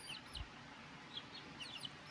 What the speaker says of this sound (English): they're chickens, they never stop moving.